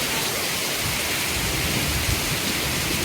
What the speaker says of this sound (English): listen to the storm roll in